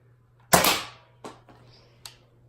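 An AccuStrike toy pistol fires a foam dart, one sharp close snap followed by a decaying whoosh, then a few lighter clicks and a knock as the dart lands.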